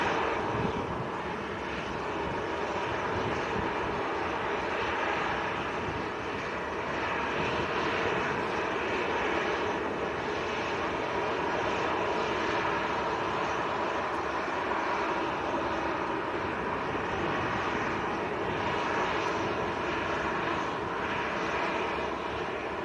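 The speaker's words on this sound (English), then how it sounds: "So Ethiopian taxiing in, Etihad taxiing out, Naked Tui lined up and ready." Airliners taxi at Manchester Airport, their jet engines giving a steady, broad rumble and whine that holds at moderate distance throughout with no voices.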